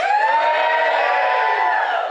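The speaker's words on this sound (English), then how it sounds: "Give us a cheer if you're not a parent." A stand-up comedy audience cheering loudly, a dense sustained roar of voices and whoops that fills the room evenly for about two seconds.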